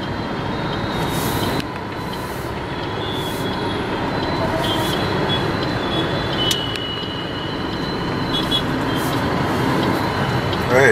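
A metro train runs on an elevated line in Hyderabad, India, with a steady loud rolling rumble and faint wheel squeals, heard through street ambience with occasional voices nearby.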